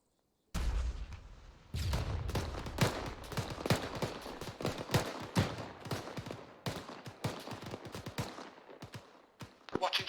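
Rapid gunfire from a military shooter game, bursts of sharp shots crackling in quick uneven volleys after a brief silence, loud and close, continuing for the whole stretch.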